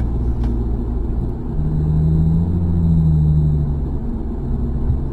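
Car traffic rumbles past on a road, a low steady drone that swells as a vehicle draws near and fades again, with no voices over it.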